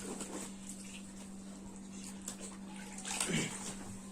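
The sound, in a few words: baby being bathed with running water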